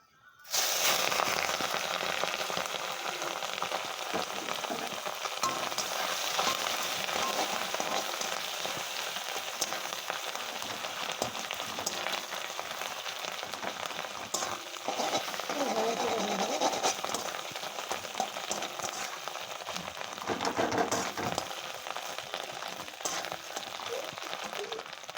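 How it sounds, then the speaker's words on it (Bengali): Fish roe frying in a pan with panch phoron, dried red chillies and ginger, a dense continuous sizzle and crackle that stays loud and steady, with faint spattering bursts and a voice occasionally heard underneath. "ভালোভাবে ভেজে নিতে হবে"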